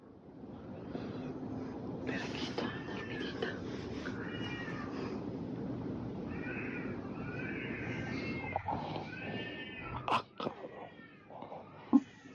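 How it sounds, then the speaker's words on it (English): A cat crying in a supposed ghost recording, with repeated drawn-out meows and wails over a steady background rumble, growing sharper toward the end. "this sounds like a cat"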